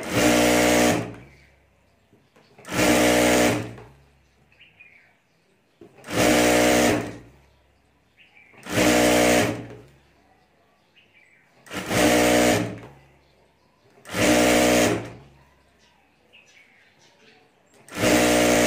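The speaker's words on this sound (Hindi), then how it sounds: "और अब यहाँ हमें सिलाई कर देनी है।" A sewing machine stitches a fabric potli bag in seven short, loud, even bursts. Brief quiet pauses separate each run.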